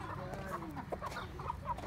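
Soft clucking from a few chickens nearby, short scattered calls over a low outdoor background hum.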